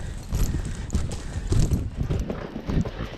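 A horse canters in an arena, its hoofbeats thudding in a quick, rolling rhythm, close and fairly loud, with no voices.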